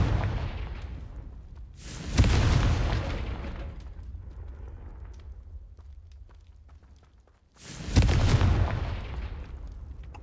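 Two Confringo fire spell blasts in Hogwarts Legacy boom out several seconds apart, each a sharp loud detonation trailing into a long rumbling decay, with no talking over them.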